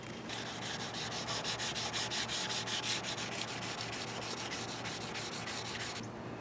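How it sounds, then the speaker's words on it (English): Steady sanding of weathered outdoor wood furniture down to bare wood, a continuous close rasping rub with quick regular back-and-forth strokes, alone and fairly quiet, stopping just before the end. "just sanding all the way down to the wood"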